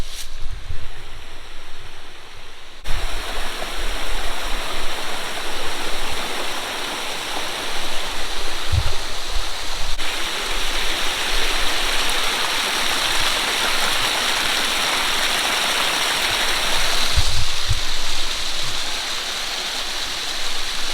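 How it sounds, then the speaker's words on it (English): Steady rushing water from a creek spilling over a small waterfall, a continuous close and fairly loud wash with no voices. "Here's that little creek area with the waterfall."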